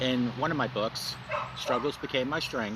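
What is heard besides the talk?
dog barking in the background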